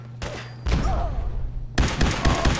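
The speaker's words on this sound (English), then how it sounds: "Here, have a grenade. Incoming!" Heavy blasts from a grenade in a modded Fallout 4 game: two loud, booming explosions arrive about a second apart, each followed by a rumbling tail, with no voices during the blasts.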